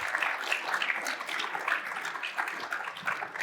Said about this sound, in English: can we have a round of applause for Miss Shannon Paul and her suit?